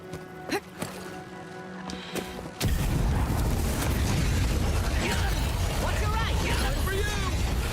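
Grenade blasts in the game Avowed, heard as a sudden heavy roar that sets in and stays as a dense, loud rumble, with faint scattered clicks before it.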